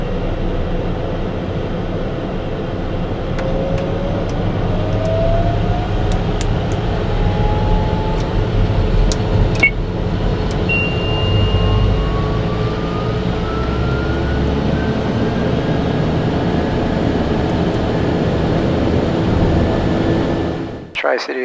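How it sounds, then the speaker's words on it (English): Steady loud drone of a TBM single-engine turboprop on the ground, the engine and propeller pitch rising smoothly to high idle and max prop RPM, continuous with faint radio chatter. "Once he's clear, we'll max RPM on the prop,"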